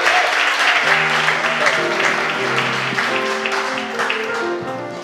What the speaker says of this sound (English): welcome with a big round of applause.